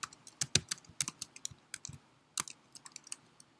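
Quick bursts of keystrokes on a computer keyboard, close and crisp, uneven clusters of taps with short pauses between them.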